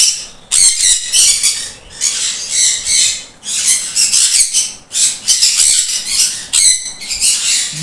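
A pair of yellow-sided conures gives loud, harsh squawks close by in repeated bursts separated by brief pauses.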